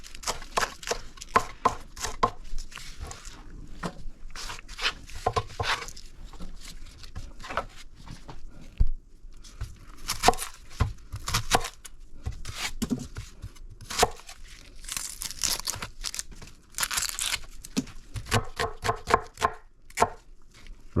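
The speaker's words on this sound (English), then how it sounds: "Rough chop on the cilantro." A knife rough-chops cilantro on a cutting board in quick bursts of crisp, close taps separated by brief pauses, with no talking throughout.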